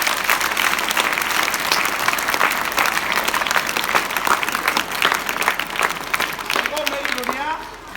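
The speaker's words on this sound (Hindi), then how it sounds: "ताली बजा दो तो।" An audience at a school comedy show claps in a dense, sustained burst of applause that fills the room and then tapers off near the end, with a voice coming in as it fades.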